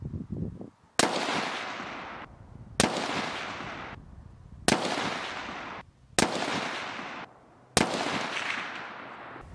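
Five loud, sharp gunshots, each followed by a long echoing decay, evenly spaced about two seconds apart while firing a group at 50 meters, with no talking.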